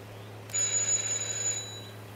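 A single electronic doorbell tone in the game Hitman 2 rings briefly over a low steady hum, lasting about a second before fading.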